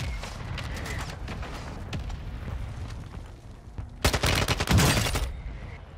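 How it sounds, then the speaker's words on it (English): Mortar strike explosions in Warzone 2 Resurgence: rapid gunfire crackles under a low rumble, then a loud burst of heavy booming impacts about two-thirds through that trails off into a rolling roar. "Mortar strike on the way"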